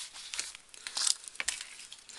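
Black scrapbooking paper is handled and shifted, giving a close, irregular run of crinkling and rustling with a few sharper crackles, and no voice.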